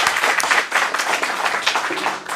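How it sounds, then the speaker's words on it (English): A loud, close round of applause from an acting studio showcase audience after a scene introduction, a vigorous dense clatter of many hands with a brief dip midway before continuing. "Give him a round of applause."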